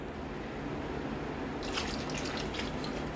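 Water runs in a kitchen while ham, green beans and potatoes are prepared: a steady low wash, joined midway by a brighter splashing, pouring stream, fairly close, with no talking.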